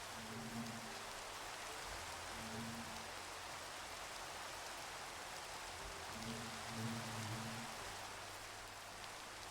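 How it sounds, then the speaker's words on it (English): Rain falls in the Minecraft video game as a steady, soft hiss that stays even throughout, with faint low tonal notes surfacing now and then. "Let's get rid of this rain and this nighttime."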